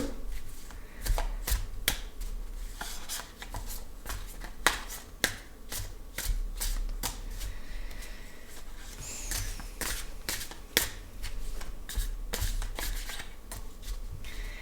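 Oracle cards shuffle in steady, rapid riffles and slaps during a spiritual card reading, close and fairly quiet with no talking.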